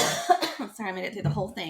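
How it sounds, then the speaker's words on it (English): A single short cough breaks into a relaxed conversation between a mother and her child, close and clear, followed by a few spoken words. "It was a cough."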